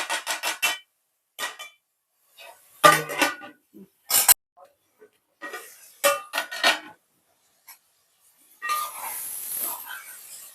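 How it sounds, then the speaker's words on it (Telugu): Brinjal curry being stirred in a pot with a spoon, giving short scraping clinks in bursts with pauses, ending in a lid set on the pot, all close and fairly quiet. "ఉప్పు వేసిన తర్వాత బాగా ఈ విధంగా కలుపుకొని అప్పుడు మూత పెట్టి"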